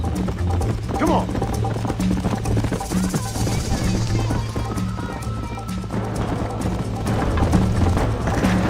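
Rapid clip-clop of galloping hooves in the video game Red Dead Redemption runs throughout, close and rhythmic, mixed with background music and people talking over it.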